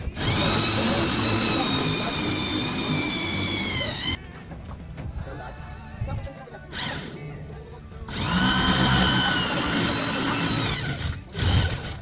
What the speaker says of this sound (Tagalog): magbubutas naman tayo dito sa wall na paglalagyan natin ng mga shampoo